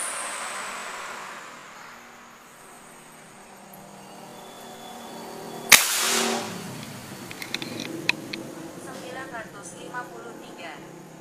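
A Buru Taktikal LW airgun fires a single sharp, close crack midway through a velocity test with a 13-grain XSlug pellet, followed by a few faint clicks and ticks over low background hum.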